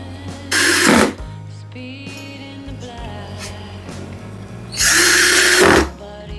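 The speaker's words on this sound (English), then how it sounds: "Now I have to fix finally this 2 SS screws for the panel." A power drill drives two stainless steel screws into the panel of a Samsung WW90M64FOPO washing machine under repair. There are two short, loud bursts of whirring several seconds apart, with quieter handling noise and a background hum in between.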